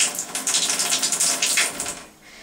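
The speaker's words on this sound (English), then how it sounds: "If you want to fill up your bathtub, all you have to do is move this over here" Water gushes steadily from a bathtub faucet, a close, continuous splashing hiss that eases off slightly near the end, with no voices.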